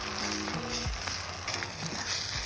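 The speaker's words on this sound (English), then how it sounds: "See, the pan is still really hot, so I can make my eggs." Eggs fry in a new, very hot cast iron skillet over a campfire outdoors, a soft steady sizzle with a few light taps and scrapes, fairly quiet, no voices.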